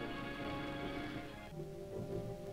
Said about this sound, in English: one of the worst storms of the season blew up